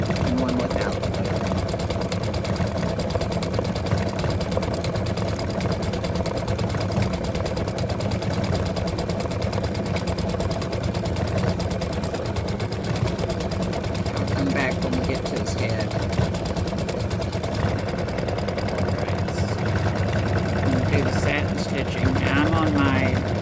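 Elissimo embroidery machine doing satin stitching on freestanding lace, a steady, fairly loud mechanical hum with a continuous rapid stitching rhythm throughout, slightly noisy in character.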